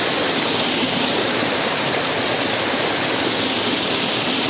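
Loud, steady roar of a waterfall on a hill trek in Assam, dense broadband rushing water filling the whole span close by with no pauses and no voices.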